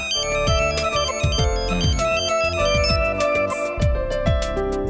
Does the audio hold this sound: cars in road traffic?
no